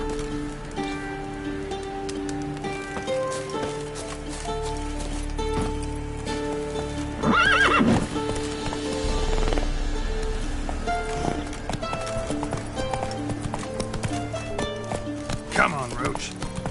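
Hooves of the horse Roach in the video game The Witcher, clip-clopping steadily under game music and ambient rain, with voices speaking briefly over them.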